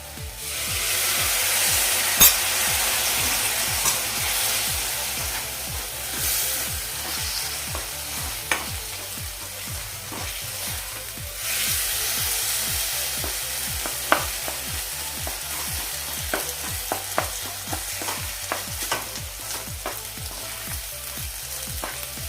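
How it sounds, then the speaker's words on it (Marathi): Gram flour roasting in oil for bhindi masala sizzles quietly and continuously while a spoon scrapes the pan in a quick, steady rhythm of rubbing strokes, close up with no talk. "बेसनसुद्धा आपलं व्यवस्थित भाजून झालं आहे तेलामध्ये"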